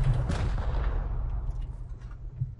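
Heavy booming gunfire during a base raid in the video game Rust, a deep loud blast followed by rumbling reports and a decaying tail, with another thump near the end and no talk.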